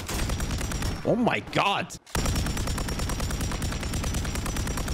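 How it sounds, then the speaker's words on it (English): Dense, loud bursts of automatic gunfire from a Call of Duty match on Rebirth Island roll on almost without pause, broken by a short gap, with a player's startled voice cutting in briefly over the shooting. "I'm getting shot from both sides"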